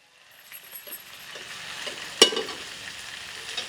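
Vegetables hit a hot pan in a home kitchen, and the sizzle swells into steady frying with a sharp, loud hiss burst about midway and stirring scrapes continuing.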